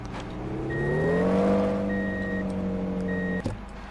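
In the Truck & Logistics Simulator video game, a high-performance forklift's engine, likened to a race car, drones and rises in pitch as it accelerates, then holds steady with faint reversing beeps, ending in a short clunk.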